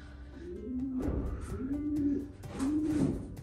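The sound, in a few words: pigeons cooing in racing pigeon loft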